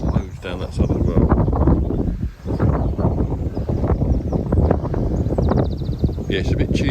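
A breeze blows across Decoy Lakes, a dense rumbling buffet of wind against the microphone, steady and fairly loud with a short lull, while a voice talks.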